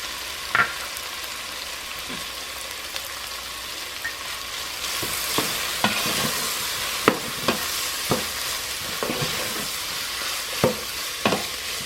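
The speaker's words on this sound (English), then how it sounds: "Now that the onions are translucent, I am going to add the garlic. I am going to stir this and cook it for about 1 to 2 minutes." Garlic and onions stir-cooked in a pot for a sausage and tomato tortellini soup: a steady close sizzle with repeated sharp scrapes and clacks of a spoon against the pot, no talking.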